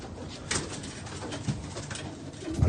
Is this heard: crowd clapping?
no